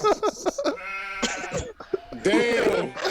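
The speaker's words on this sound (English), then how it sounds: "I need the sheep sound effect." A sheep bleat sound effect plays loudly in wavering, nasal bursts, mixed with overlapping talk and laughter in a lively podcast studio.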